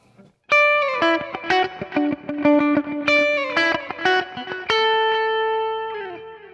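Clean electric guitar through an Axe-Fx preset with a clean boost plays a bright, ringing riff of quick plucked notes and chords, ending on a sustained chord that fades out.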